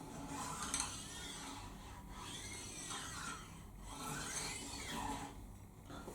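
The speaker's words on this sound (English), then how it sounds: "I'll wipe the file. It only cuts one way, this file," A metal file rasps steadily back and forth along the fret edges of a Fender Precision bass during a refret, cutting one way in slow, even strokes, a faint gritty scraping with no voices.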